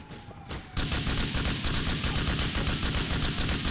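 Rapid automatic gunfire in the video game GTA IV, a loud sustained burst of evenly spaced shots that starts abruptly after a short quiet moment and continues to the end.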